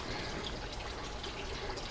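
A pump in a hydroponic Dutch bucket system sends water into the buckets with a steady, close trickling and splashing flow that stays constant throughout.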